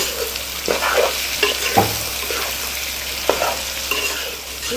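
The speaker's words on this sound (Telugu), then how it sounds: "ఇప్పుడు దీన్ని మనం మంచిగా కలుపుకుందాము" Curry seasoned with salt and turmeric being stirred in a pan, a sizzling bed under repeated scraping strokes of a spoon, close and moderately loud, with no talking.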